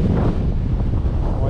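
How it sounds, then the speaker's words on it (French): Strong crosswind buffets a microphone on a boat out mackerel fishing at sea, a loud, steady roaring rumble that fills the whole moment. "il y a un putain de vent latéral"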